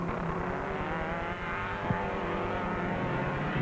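Fiat production saloon racing cars run on the Phoenix Park circuit in 1979, a continuous engine drone with some revving over a rough, distant-sounding recording.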